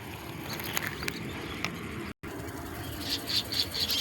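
Mynas chirp in short, scattered calls near a bajra millet field being harvested, with soft fluttering and a faint background hiss and no speech.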